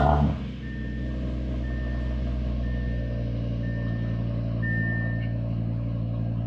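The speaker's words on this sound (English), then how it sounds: "we're going to get you guys a cold start sound" Audi RS3 8Y with ECS exhaust idling steadily after a cold start, a deep constant rumble with a brief burst at the very beginning and faint intermittent beeps in the background.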